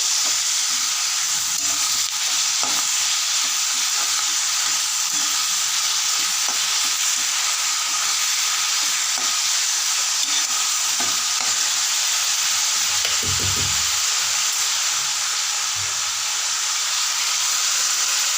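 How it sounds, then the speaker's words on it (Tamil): Drumstick leaves are stirred into fried onions in a pan, giving a continuous steady sizzle and hiss with soft scraping strokes of a spoon, close and even throughout. "இப்போ கூட முருங்கைக்கீரை போட்டு நல்லா கலக்கி விட்டுக்கலாம்"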